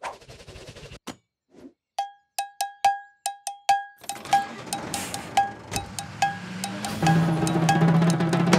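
Sharp, bright cowbell strikes ring out alone in an irregular rhythm, then continue over a busier, noisy backing with a low hum underneath.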